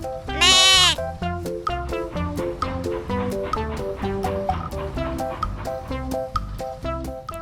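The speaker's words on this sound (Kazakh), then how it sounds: "Лақ." A young goat kid gives one loud, quavering bleat lasting under a second, followed by steady background music with no further animal calls.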